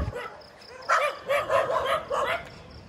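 Dogs bark in a short burst of several sharp barks at moderate distance outdoors at sunrise, with slight whimpering between them.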